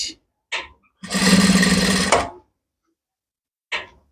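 A sewing machine runs in one continuous burst of rapid, even stitching for about a second, sewing a kimono jacket from the inside, with brief soft voice fragments before and after and silence between.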